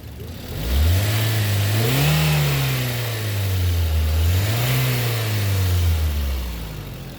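A car engine revs hard twice, each rise swelling to a loud, close roar and then dropping back toward a steady idle, with no voices present.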